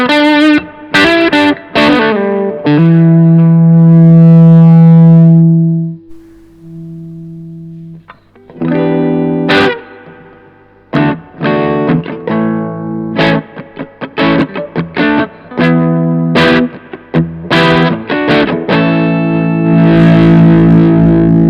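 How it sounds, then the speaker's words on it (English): Electric guitar on the bridge pickup through a Mosky Tone Makestation amp pedal with the guitar volume rolled down low, loud distorted chords and single notes, some held and sustaining, others short stabs with brief gaps. "So you can hear there, that was just bridge pickup rolling the volume from about"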